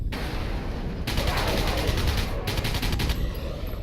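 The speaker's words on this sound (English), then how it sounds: "You can burst fire." Burst-fire gunshots in the sci-fi shooter Alien Breed, loud rapid volleys that fill the clip, with short pauses breaking the stream of rattling shots.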